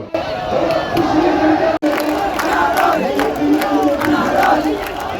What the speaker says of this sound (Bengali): মিছিল করতালি আর স্লোগানে স্লোগানে মুখরিত হয় সমগ্র জনসভাস্থল